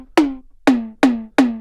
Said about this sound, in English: And in this case, I'm going for this tom